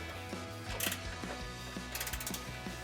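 A hand ratchet tightens the suspension control arm bolts on a 2019-2023 RAM 1500 while a bolt-on lift kit is fitted, giving a close, quiet series of short ratcheting clicks in repeated strokes, with no talk.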